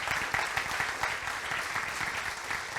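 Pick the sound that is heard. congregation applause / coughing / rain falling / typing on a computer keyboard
congregation applause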